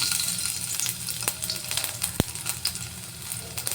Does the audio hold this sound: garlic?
yes